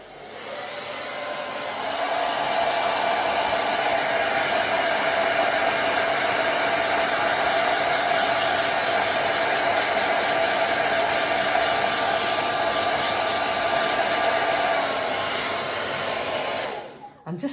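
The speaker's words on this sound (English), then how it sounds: "I'm going to give it a quick blast with a hairdryer." A hair dryer blasts continuously at close range while drying a craft project, switching on with a rising whoosh, holding a loud steady roar with a faint whine for about fifteen seconds, then cutting off.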